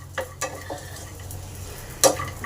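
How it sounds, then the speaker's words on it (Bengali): Almonds and raisins fry in a pan over low to medium heat, giving a soft, quiet sizzle with a few brief clinks and stirring scrapes, the loudest rattle near the end. "এবার আমন্ড আর কিশমিশগুলোকে ভেজে নেব"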